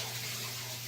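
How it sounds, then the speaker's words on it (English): Tap water runs steadily as hands are washed at a kitchen sink during lasagna prep, a continuous close hiss with no talking. "I need to wash my hands quick."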